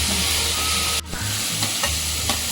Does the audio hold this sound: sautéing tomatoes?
yes